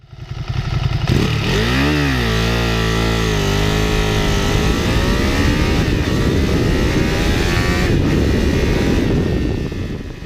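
A 2020 Ducati Panigale V2 with a 90-degree V-twin engine accelerates hard, its loud, close engine note rising sharply through a gear change, then roaring on in a sustained, rough-edged pull.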